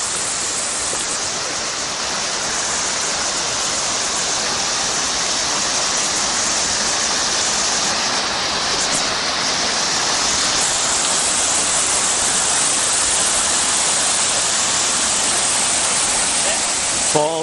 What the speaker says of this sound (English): Falls of Big Stone Coal Creek.